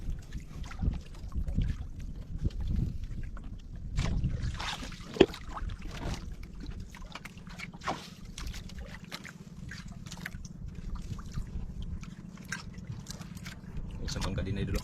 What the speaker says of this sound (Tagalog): Grabing hangin, lakas ng hangin.